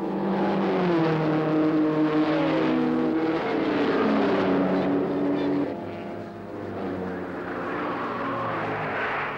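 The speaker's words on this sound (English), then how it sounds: "Now Weldon has passed the police Studebaker and is setting a fantastic pace" Racing cars, Ford Cortinas and Studebakers, roar past at the 1965 Armstrong 500 at Bathurst, their engines rising and falling in pitch as they sweep by, with a faint commentator voice underneath.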